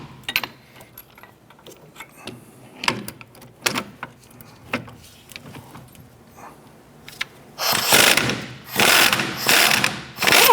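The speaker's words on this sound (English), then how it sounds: "Let's go ahead and remove those nuts." A ratchet with a 21mm socket works strut nuts off the rear strut assembly of a 2006-2013 Chevrolet Impala, with scattered clicks and metallic taps followed by a loud burst of rapid ratcheting near the end.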